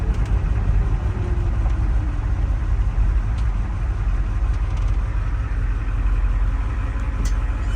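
A 1973 Ford F250 truck engine running at a steady low rumble, close and loud, with a constant drone and no talk.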